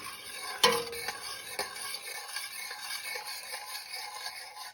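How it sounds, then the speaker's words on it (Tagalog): Pokeweed salad being mixed with hot sauce in a bowl, a close run of soft stirring, rattling and scraping with one sharper clink of a utensil early on, fairly quiet with no talking. "Just put some hot sauce. And mix it really good again."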